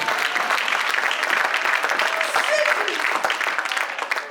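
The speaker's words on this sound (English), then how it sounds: "Let's clap our hands to the Lord" A church congregation claps their hands during a sermon by a prophetess, a loud, dense, continuous clatter of many hands with a faint vocal tone running underneath, easing off slightly toward the end.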